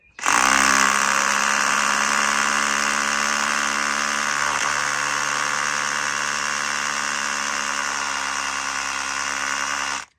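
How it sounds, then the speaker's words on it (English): An older Makita 12-volt SDS drill bores steadily into a small brick, a loud continuous motor whine with hammering buzz that runs unbroken for about ten seconds before cutting off. "we're going to give my old 12 volt SDS a bit of a run out and see how it performs in this little brick"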